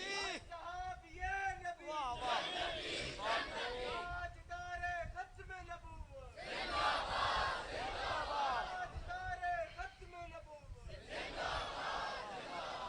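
A crowd at a religious gathering chants slogans in loud, rhythmic bursts of many voices shouting together, with a leader's voice calling between them.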